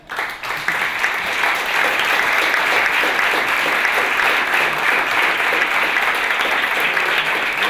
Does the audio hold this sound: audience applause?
yes